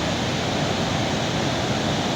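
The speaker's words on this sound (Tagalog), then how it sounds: "yan po ang overflow" Water overflowing at Bustos Dam roars as a loud, dense, unbroken rush, close and constant with no voices.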